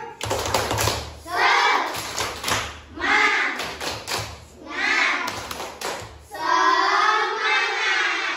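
Children in a classroom perform a rhythmic clapping chant, bursts of patterned claps alternating with their chanted voices over several cycles, close and loud.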